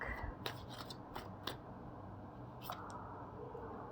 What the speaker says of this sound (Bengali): চলো ফার্স্ট কার্ড তোলা যাক